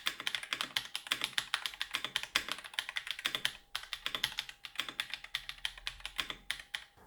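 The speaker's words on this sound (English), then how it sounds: "and the keyboard sounds decent" Rapid, continuous typing on a 75% wireless mechanical keyboard produces crisp, close clacking keystrokes in an irregular flow with only brief pauses. No one speaks.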